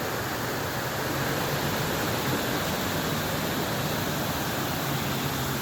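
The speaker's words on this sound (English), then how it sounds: "See the waterfall running there." A waterfall at Cottonwood Falls park in Nelson, B.C., roars steadily at twilight, a dense unbroken rush of falling water close by with no voices over it.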